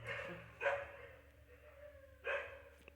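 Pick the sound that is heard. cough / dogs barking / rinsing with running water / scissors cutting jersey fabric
dogs barking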